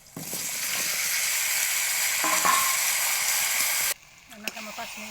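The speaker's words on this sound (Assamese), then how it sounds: "ৰঙালাও আলু বহাই দিলোঁ" Pumpkin and potato pieces fry in hot oil with whole spices, green chilli, onion and salt, giving a steady loud sizzle that drops abruptly near the end, followed by a few clinks and scrapes in the pan.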